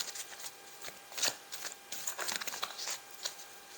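Tarot cards shuffled by hand in close, bright riffling bursts, several quick flurries of flicking and pattering with a louder burst partway through.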